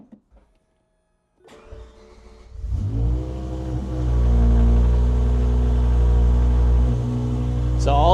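BMW M5 with a V10 engine, rebuilt after blowing up, starting and settling into a loud, steady idle after a near-silent moment, with a faint whir before it catches.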